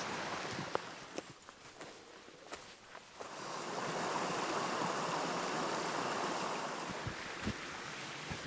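Footsteps crunch along a woodland path in a green valley of the Spanish Pyrenees. A steady rush of stream water sits under a few scattered, irregular steps close by, and the water swells louder midway.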